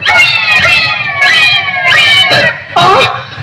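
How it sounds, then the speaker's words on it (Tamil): A cat meows repeatedly near a bowl of milk at home, four or five loud, close, drawn-out calls in a steady series, with faint household sounds underneath. "என்ன நான் குடிக்க வேண்டிய பாலம் பூனை குடிச்சிட்டு இருக்கு?"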